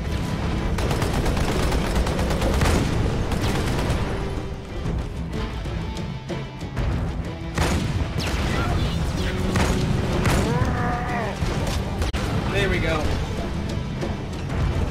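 Sniper rifle gunfire in Halo 2 on Legendary difficulty, with sharp cracks and booms scattered through a busy firefight, under frequent excited talking from a player.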